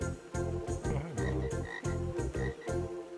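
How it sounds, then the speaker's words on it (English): A frog character croaking in the Gorilla Tag video game, repeating deep, throaty croaks in quick succession, loud and close, with no talk over it. "here's Bob the Frog."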